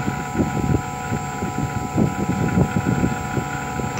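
Small RC model motor given a little throttle, producing a steady whirring hum with faint fluttering pulses over a constant electronic whine, close and moderate in level, with no talk.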